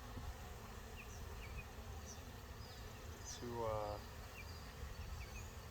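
Honeybee drones buzz at a hive in an apiary during swarm season, a dense, steady hum close by. A voice speaks briefly over it and faint chirps sound in the background.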